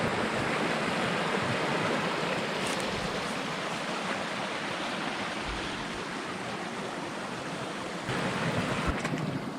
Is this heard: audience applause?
no